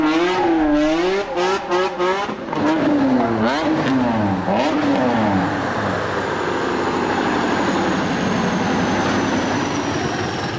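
BMW E30 proto race car engine revving hard and loud, with rising and falling pitch sweeps through the first half, then settling into a sustained high-revving roar with no voices.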